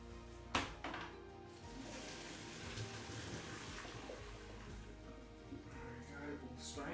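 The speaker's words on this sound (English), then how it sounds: "we just need to strain off the pasta, strain off the peas and strain off the sweet corn, all in one go" Cooked pasta, peas and sweet corn strained together, with a sudden splash as the pot is tipped followed by steady pouring water and draining for several seconds, then softer trickling.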